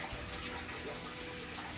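Water flows and gushes continuously through an aquaponics system, a steady close-up rush with no pauses and no talking.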